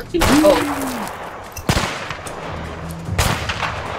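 Sniper rifle shots ring out in the co-op video game A Way Out, two sharp, loud cracks a second and a half apart with a brief ringing tail, and a faint third report near the end.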